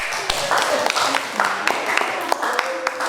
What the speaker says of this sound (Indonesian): Tepuk tangan temannya.